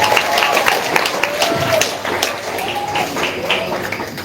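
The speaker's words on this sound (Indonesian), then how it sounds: "Jadi tepuk tangan dulu untuk SMP Negeri." Applause from an Indonesian school audience for the students of SMP Negeri 5 Wonogiri, a steady spread of hand claps sustained for a few seconds at moderate level, with a faint tone running underneath.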